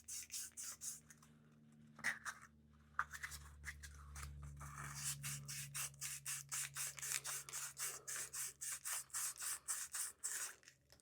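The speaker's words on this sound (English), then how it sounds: "I'll do a little sanding to join that flat with this bevel I'm putting in" Close, rhythmic sanding strokes rasp against a wooden Comoy's Tawny Saddle pipe bowl, faint at first and then settling into a steady back-and-forth scrape.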